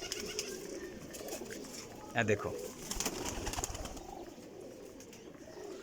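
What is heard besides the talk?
pigeons cooing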